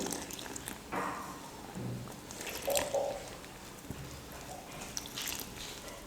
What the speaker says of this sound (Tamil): கொஞ்சம் கொஞ்சமாக தண்ணி சேர்த்து இப்போ நான் மிக்ஸ் பண்ணிக்க போகிறேன்